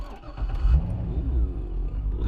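Porsche 928 S4 V8 sports car cranking and firing up, a low rumbling engine catch that swells into a loud idle and settles into a steady, close throb.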